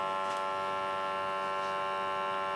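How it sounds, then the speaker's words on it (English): A budget vacuum sealer runs in dry normal mode with a regular bag, giving a steady, even electric hum and motor drone throughout with no voices. "we're going to use the regular bag, dry normal mode, and we're going to hit vacuum seal"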